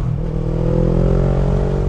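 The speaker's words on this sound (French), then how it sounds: "on met un tout petit coup de gaz pour rétrograder" Motorcycle engine giving a small throttle blip during a downshift while riding, a steady close rumble with a slight rise in revs throughout.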